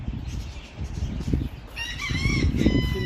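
A six-month-old rooster crows in its coop, a loud stretched cock-a-doodle-doo rising over low clucking and scratchy ambient noise from the birds nearby.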